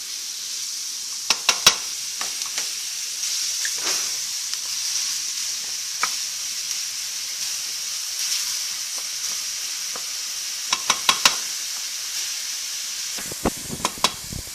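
Green peppers, cilantro, onions and garlic fry in a pan with a steady, close sizzle, broken by a few sharp crackles and pops near the start and the end; no one speaks.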